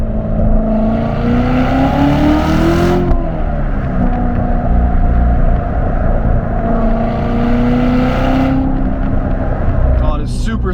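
A loud 2017 Corvette Z06 with a manual gearbox revs hard on the move, its engine note rising and falling through gear changes and dominating the close, steady roar.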